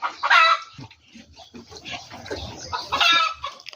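Young chickens, about 45 days old, cluck and squawk while eating their feed, with a few close, louder calls breaking through the busy, continuous clucking of the flock.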